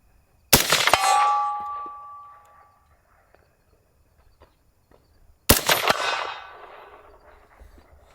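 Two rifle shots ring off a steel target 100 yards away, each a sharp crack followed by a bright metallic clang that rings out and fades over about two seconds. The shots come about five seconds apart with quiet between them.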